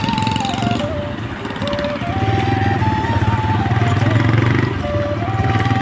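Motorcycle riding during a Saraswati Puja outing, a steady close engine drone running throughout with people talking over it.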